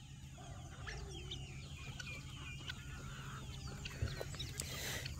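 Homestead chickens cluck and murmur steadily for several seconds outdoors, a loose chorus of short calls at moderate distance over a constant low hum, with one brief louder sound near the end.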